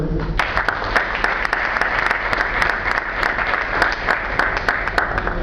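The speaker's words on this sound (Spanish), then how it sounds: "el doctor Andrés Reyes, para quien pido un aplauso." A crowd applauds steadily at a book fair event, a dense wash of clapping that holds at an even level throughout.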